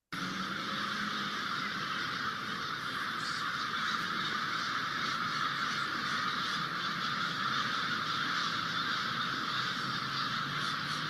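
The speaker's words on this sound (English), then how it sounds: "So that's a pretty impressive group of crows there." A large flock of crows caws continuously, many overlapping harsh calls at steady volume against a dense outdoor background.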